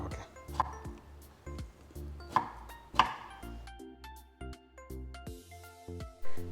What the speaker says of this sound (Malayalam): ഇങ്ങനെ വഴുതനങ്ങ ഇതുപോലെ കട്ട് ചെയ്തെടുക്കും കേട്ടോ